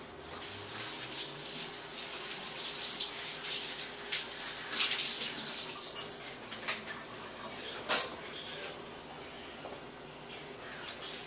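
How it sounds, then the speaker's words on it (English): Water runs steadily from a kitchen sink tap while onions and celery are rinsed under it for Thanksgiving turkey giblet gravy, a continuous close splash with a brief louder knock near the end. "Just gonna give these a quick rinse in the sink."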